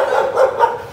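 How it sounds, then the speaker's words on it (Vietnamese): Several dogs barking nearby in quick overlapping bursts, about three sharp barks within a second. "Chó hơi nhiều quá."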